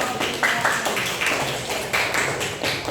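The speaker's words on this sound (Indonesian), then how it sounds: "Berikan tepuk tangan untuk kelompok." A class claps for a student group after its presentation, a steady patter of many hands lasting a few seconds, moderately close and fairly quiet, with no talk over it.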